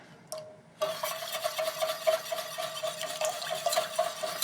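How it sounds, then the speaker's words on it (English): A whisk stirring a mushroom cream sauce in a pan, a brief scrape and pause, then continuous quick swishing and light tapping against the pan surface. "I'm going to take a whisk and just break up any lumps that may have formed in here."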